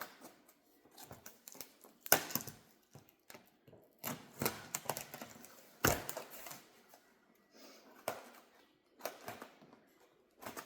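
Scissors cut open a cardboard box in bursts of snipping, scraping and crinkling, close and fairly quiet, with pauses between strokes.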